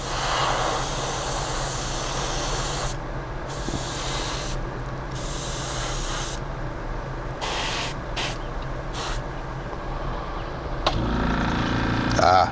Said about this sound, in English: Sorry, I forgot the air compressor still plugged in.